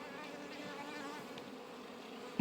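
Honey bees buzz steadily at an open hive with a drone-laying queen in March, a dense, continuous hum filling the short stretch at close range.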